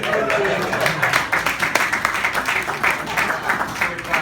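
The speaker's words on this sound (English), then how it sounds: "That's a clap." An audience at a wedding reception bursts into clapping during a best man speech, a steady wash of many hands applauding at moderate loudness, close and continuous throughout.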